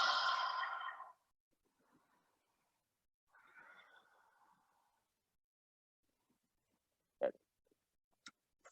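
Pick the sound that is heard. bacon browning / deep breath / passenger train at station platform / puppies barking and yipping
deep breath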